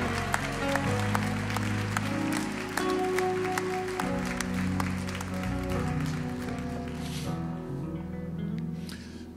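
A church congregation applauds over music, with scattered claps running throughout beneath sustained instrumental tones.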